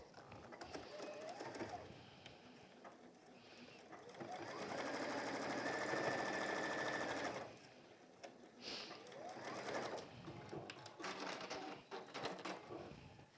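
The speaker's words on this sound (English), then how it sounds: "align it with that bottom seam as straight as we can and sew across" Sewing machine stitching across the bottom and side seams of a peg bag, a steady mechanical whirr in bursts, louder in the middle with a long continuous run, with pauses and shorter runs around it.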